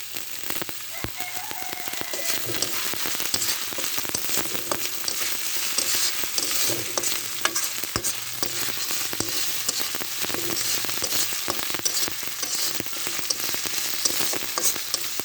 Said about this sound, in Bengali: আর হালকা হালকা আঁচে ভেজে নিতে হবে দুই থেকে তিন মিনিট ধরে বাদামি কালার করে ভেজে নিতে হবে